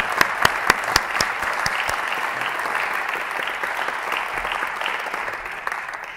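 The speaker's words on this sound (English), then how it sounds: "I just want to give a round of applause to him" An orchestra audience bursts into applause for a conductor, opening with a few sharp, distinct claps that quickly swell into a dense, sustained ovation holding steady before easing slightly at the end.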